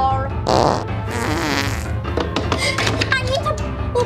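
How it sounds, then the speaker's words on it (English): Loud, comical cartoon fart noises sputter and trumpet in several bursts, one after another, mixed with squeaky effects. "Fart powered car!"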